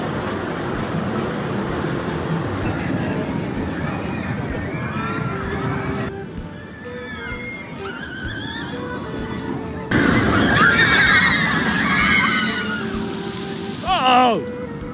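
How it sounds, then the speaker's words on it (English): A flying roller coaster at Nagashima Spa Land rushes past with a rumbling roar and heavy water sloshing and splashing, swelling louder near the end, while voices talk over the noise. "That was a really good flying coaster, even though it did splash me when I was trying to film it."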